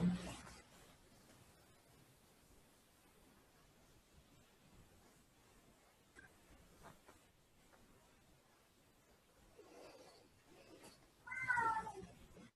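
A cat stays quiet through a hushed room for most of the stretch, then lets out a couple of clear, close meows near the end.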